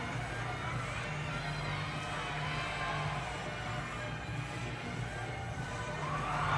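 Crowd cheering in an arena during a college gymnastics floor routine between Arizona and Southern Utah, a steady distant roar of voices with music under it, rising toward the end.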